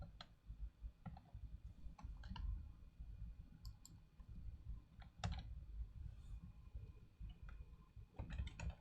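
Someone types a password on a computer keyboard, a quiet, irregular run of crisp key clicks with short pauses in a hushed room.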